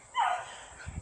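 A neighbor's small dog gives a short, close, high whimpering whine, followed by a couple of faint low sniffs or yips.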